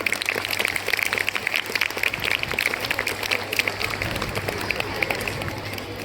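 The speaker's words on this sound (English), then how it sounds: "Let us give them a good round of applause." A school assembly audience applauds at a Children's Day celebration. Many hands clap in a continuous, fairly close round that holds steady for about six seconds, with a low hum beneath and faint voices mixed in.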